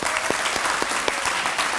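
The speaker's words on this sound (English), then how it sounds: "Let's give our kids a round of applause." A crowd claps steadily at an elementary school D.A.R.E. graduation ceremony, a dense patter of hands filling a room at moderate volume.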